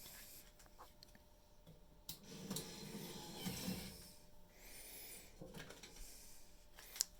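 A 5002E dual card dispenser vending machine whirs and clicks as it pushes out a card, a faint mechanical grinding with a few ticks and a sharp snap near the end.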